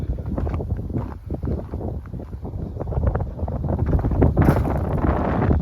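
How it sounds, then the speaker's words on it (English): Strong wind buffets the microphone in a steady, rumbling roar, gusting louder toward the end with no voices. "A little bit windy,"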